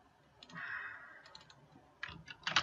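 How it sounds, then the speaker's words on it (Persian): Quick keypresses on a computer keyboard as filler text is entered into a form, coming in short clustered bursts of clicks with pauses between, close and fairly quiet. "تقریبا بدم مثلا یه چیزی الکی تایپ کنیم"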